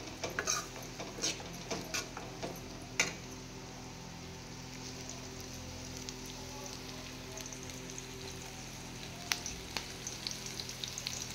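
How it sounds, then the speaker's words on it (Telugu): Onions frying in a pan while paneer vadiyalu are being prepared, a faint, steady sizzle with scattered small crackles and pops, quiet and continuous with no voices. "బాగా ఫ్రై చేసుకోవాలి. ఇట్లా ఆనియన్స్ అది బాగా వేసుకోవాలంటే"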